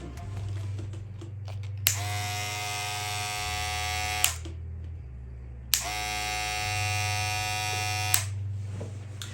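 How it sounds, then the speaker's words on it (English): A StyleCraft Pro Apex electric hair clipper with loose internal parts buzzes loudly in steady bursts, switched off and on a few times with clicks, its motor tone rattling slightly. "it sounds like things are loose in the clipper"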